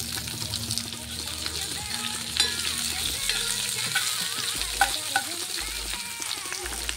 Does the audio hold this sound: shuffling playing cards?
no